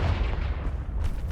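A Confringo blasting spell explodes in Hogwarts Legacy, a dense, rumbling burst with heavy low-end boom that sustains through the short moment, loud and close, with no talk over it.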